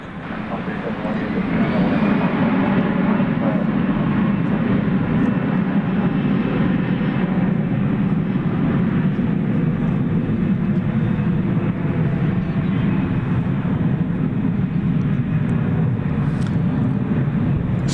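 An airliner bound for Sydney departs DFW airport at night, a steady, loud jet-engine roar building in the first seconds and then holding, with a person talking over it.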